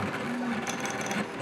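The stepper motor of a Prusa i3 clone 3D printer turns the Z shaft with a close, steady, whirring whine and a faint buzzy rattle, heard alone.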